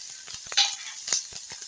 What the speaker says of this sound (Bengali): পেঁয়াজ কুচিগুলো দিয়ে আমি একটু এটাকে ভেজে নেব।